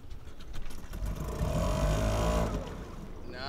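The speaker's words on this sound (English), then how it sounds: "Brian, why are you revving? I'm revving" A motorboat engine at sea off Croatia revs up, its droning pitch climbing and holding before easing off, moderately near with water and wind noise around it.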